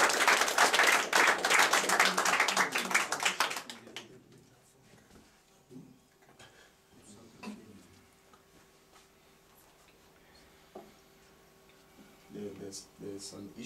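Congregation clapping at a prophetic church service, a dense burst of hand claps for a few seconds that cuts off abruptly, followed by quieter room noise and scattered voices.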